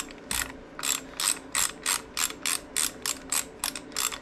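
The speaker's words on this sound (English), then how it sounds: "Take this 1/4-inch Allen here. Get your ratchet to work properly. Break that bolt free." Close ratchet working a 1/4-inch Allen bolt on a Harley Sportster, a steady run of about a dozen evenly spaced clicking strokes, crisp and loud with nothing else over it.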